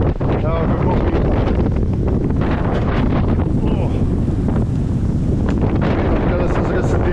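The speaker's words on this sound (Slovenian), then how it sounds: "Evo, kako piha." Strong Meltemi wind battering a sailboat in the Aegean Sea, loud roaring gusts buffeting the microphone continuously, with rigging and water noise underneath and a voice talking briefly amid the blast.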